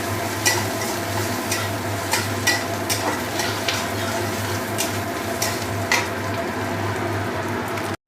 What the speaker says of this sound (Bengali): পেঁয়াজটা যতক্ষণ মানে লালচে কালার না আসছে ততক্ষণ ভাজতে হবে